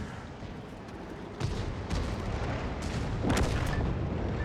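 Heavy artillery from a self-propelled gun fires in a tank video game, booming blasts landing in a dense rumbling battle soundscape, with a few sharper reports layered over constant low noise.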